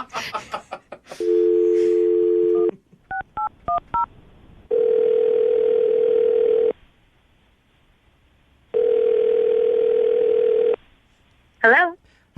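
Telephone dial tone as a call is placed on a morning radio show: a steady tone, a quick run of dialing beeps, then two long ringback tones separated by silence, with brief talk at the start and end.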